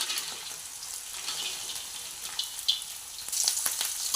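Peanuts and dried red chillies frying in oil give a bright, steady sizzle, with crackling bursts growing louder toward the end, no voices.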